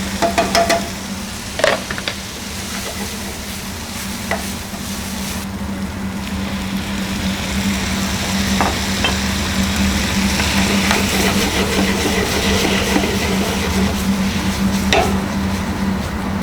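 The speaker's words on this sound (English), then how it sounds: "you're going to throw in your spinach, and it's going to spit a little bit" Spinach, garlic and peppers sautéing in a pan give a steady, fairly loud sizzle and crackle, with a few utensil clinks early on and a constant low hum underneath.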